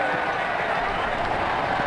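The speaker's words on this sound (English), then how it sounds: "The crowd really enjoyed that one." Steady, dense crowd roar with applause from the stands in the cricket video game Ashes Cricket 2009, during an IPL Mumbai versus Bangalore match, holding at an even level throughout.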